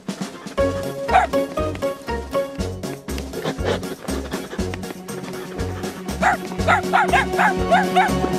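A cartoon dog from Charlie and Lola barks over and over, short rhythmic yips and bow-wows along with whimpers, set against bright background music.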